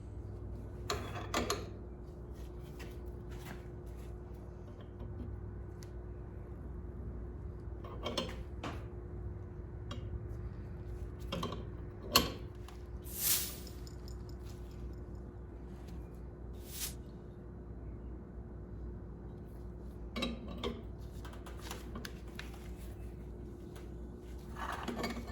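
A pulley puller strains against a stubborn mower-deck pulley on a 2003 Cub Cadet 1525. Sharp metallic clanks and creaks come in scattered bursts over a quiet workshop hum, with no speech.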